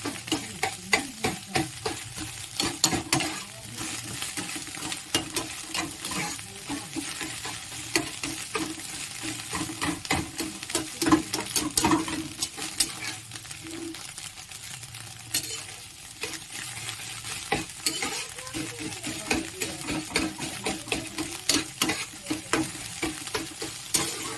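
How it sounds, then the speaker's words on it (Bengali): Egg fries in a pan for street-style chowmein while a utensil stirs it briskly, giving a continuous sizzle broken by frequent scraping and clacking strokes of the spoon against the metal. "এইভাবে কিন্তু ডিমটা ভেজে নিতে হবে। একদম লাল করে।"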